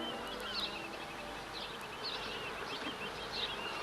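Bees buzzing steadily around two hives set in front of a house, a close, continuous drone with brief louder passes as insects fly near, no talk.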